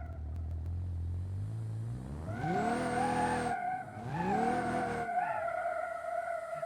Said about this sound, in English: endless, endless wheel spin.